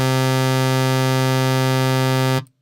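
A sawtooth wave from the Operator oscillator in Ableton plays as one steady, bright, buzzy synthesizer tone. It holds at a constant pitch and level for over two seconds, then cuts off abruptly.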